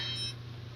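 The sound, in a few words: phone beeping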